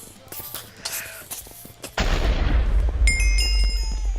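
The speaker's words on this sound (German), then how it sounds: "Ah, ist noch explodiert, glaube ich." A creeper explodes in the Minecraft video game: quieter game clicks and sounds give way to a sudden loud blast with a heavy low rumble that lingers, followed by thin ringing tones.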